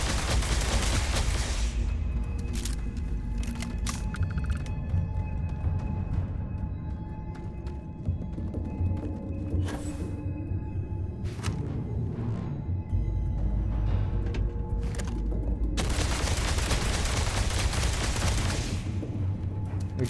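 A mining turret firing in the space game Starfield: loud, continuous bursts of rapid gunfire with heavy booms, swelling and easing in waves throughout, close and dense with no talking.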